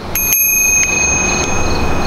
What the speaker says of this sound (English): Now here's your courtesy bell.